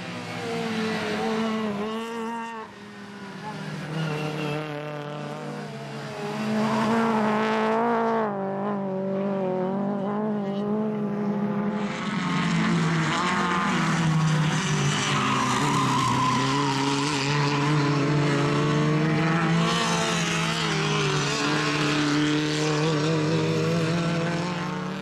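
Race cars with engines up to 1600 cc in a qualifying session at a national circuit racing championship, loud sustained engine roar with rising and falling revs as cars pass close by.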